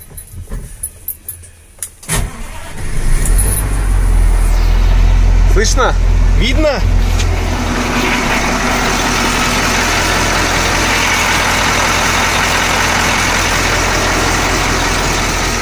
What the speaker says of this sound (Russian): Ну что, заведем, покажем вам, что из себя представляет эта машина.